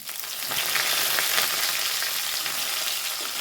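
Urad dal and curry leaves frying in hot oil while being stirred, a loud dense continuous sizzle that swells briefly and stays close throughout, with no voices.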